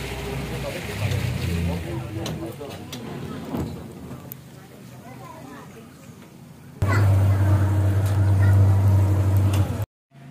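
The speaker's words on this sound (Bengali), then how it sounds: "আমরা সেই নৌকা নিয়ে বেড়াচ্ছি।" A boat carries riders across the water near Ipu Island, Malaysia. A low engine drone rumbles beneath voices chatting nearby and swells much louder toward the end before cutting off.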